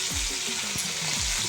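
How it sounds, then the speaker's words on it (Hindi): Cauliflower fries in a large kadhai, giving a short, even sizzle with faint stirring movement underneath and no talking. "तो देखो हमारे अभी मैं फ्राई कर रहा हूँ गोभी ला।"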